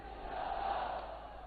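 A crowd at a political rally outdoors roars in response to a slogan, a dense sustained shout of many voices heard at a distance.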